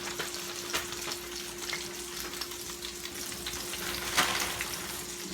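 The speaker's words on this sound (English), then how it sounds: "I'm gonna drop me a piece of fish down in that grease" A piece of fish fries in hot grease, a steady close crackle and sizzle with occasional louder pops and spits, alone without any voices.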